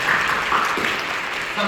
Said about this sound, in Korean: 우리 박수로 보내주시고 모든 감사를 드리겠습니다